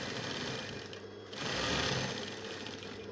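Steady whirring drone of a sewing machine running continuously while stitching down an invisible zipper with a tight stitch, close and fairly loud, swelling slightly halfway through, with no talking.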